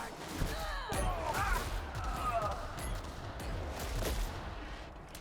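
Gunfire in The Outer Worlds, several loud shots and impacts fired in quick bursts amid combat noise and whooshing effects, with a voice speaking over part of it.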